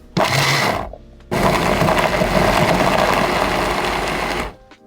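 A blender whirs loudly in a short burst, chopping rough-cut ginger, stops briefly, then runs again for several seconds with a coarse grinding texture before cutting off.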